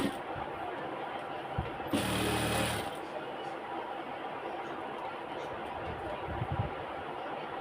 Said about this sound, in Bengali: এখন এটাতে একটা আমি চাপ সেলাই দিয়ে দিব।